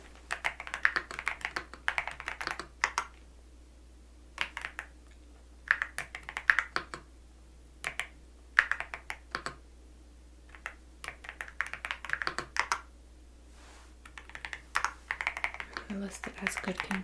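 Someone listing a thrift store book types on a computer keyboard in soft, close clusters of clicky keystrokes with brief pauses between bursts, while a voice murmurs faintly in the background.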